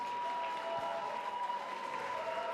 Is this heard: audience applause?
yes